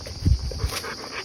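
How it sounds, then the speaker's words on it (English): Excited dogs waiting for water, with a couple of quick low yelps or scuffles close by, brief and lively, followed by faint shuffling. "I'll see if I can give these dogs some water. They just get very excited."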